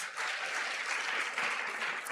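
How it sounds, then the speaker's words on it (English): Audience applause at a school quiz competition event, a steady wash of many hands clapping throughout, moderately distant and even in level. "If you can clap to that."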